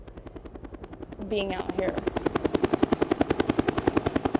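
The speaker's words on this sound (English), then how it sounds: "Above the debris is the constant hum of helicopters, delivering body bags as more of the missing are found." Helicopter rotor chop pulses steadily overhead above a disaster debris field where the missing are being searched for, growing louder and closer partway through, with a person speaking briefly at the start.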